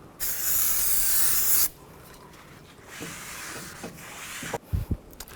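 A close, loud aerosol brake cleaner spray hisses steadily on a front brake rotor of a 2003-08 Toyota Matrix for over a second, then stops, followed by soft rubbing with a rag and a few light knocks.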